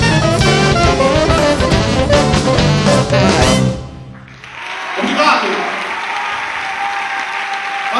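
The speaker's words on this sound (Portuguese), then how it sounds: "Bravo. Aplausos." An audience bursts into loud, dense applause after a live choro performance, the clapping close and sustained, then dropping sharply before continuing more thinly.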